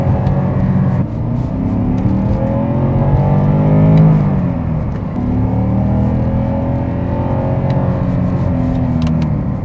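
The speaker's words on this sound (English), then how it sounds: "As you can hear, it has a fantastic exhaust note." A Porsche Panamera S V8 engine revs loudly nearby, the exhaust rising and falling in a few throaty surges over a steady rumble.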